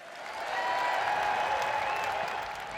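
A large crowd in a party conference arena applauds, a dense wash of clapping that swells quickly and holds steady, with some cheering mixed into the roar.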